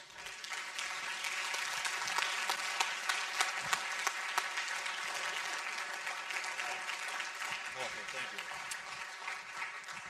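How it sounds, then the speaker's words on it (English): Sustained audience applause following a university bioethics lecture, a steady moderately distant patter of many hands clapping that holds for about ten seconds and thins slightly near the end. "I think the applause is fitting recognition for a wonderfully stimulating lecture"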